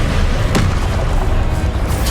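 A spell cast in the Hogwarts Legacy video game lands as a loud, booming magical burst with a sharp crack near the start, set over a dense, steady wash of game sound and music.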